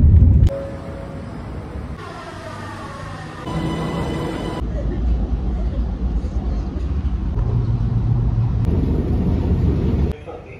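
Riding aboard an LRT light rail train produces a steady rolling rumble from start to finish, with shifting tonal whines as the train speeds up and slows down, and a brief bright chime partway through.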